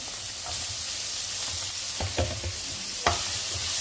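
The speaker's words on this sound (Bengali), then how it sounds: "পেঁয়াজগুলো আমি এখানে দিয়ে দিচ্ছি পেঁয়াজগুলো একটু ভেজে নিব" Chopped onions, a large batch of roughly a quarter kilo or more, frying in a pan with a constant sizzle and several loud spoon-and-pan scrapes and knocks from stirring, no talk.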